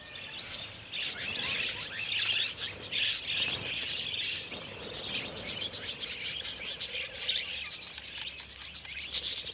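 Budgerigars calling along a riverbank in central Australia, a dense steady chorus of high chirps and twitters from many birds, with insect buzz running underneath.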